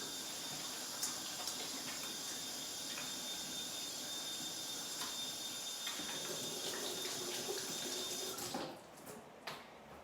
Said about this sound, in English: First step of today is to wash our hands like always, so I'll just go do that now.